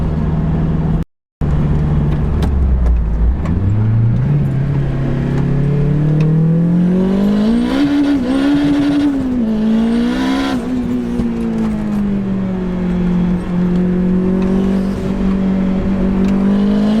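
A 430bhp turbocharged Honda Integra DC5 driven hard, its engine loud and close, revving up and down through rising and falling pitch sweeps for a long continuous stretch, with a brief cut near the start.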